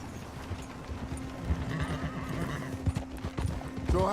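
Horses in Red Dead Redemption 2 gallop with rhythmic hoof clip-clops and let out a whinnying neigh, over a low tonal hum, with a heavier thump at the end.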